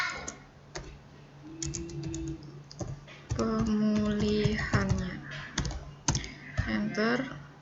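Keys on a computer keyboard tapped in short, quick bursts while working in a spreadsheet, partly under a person speaking.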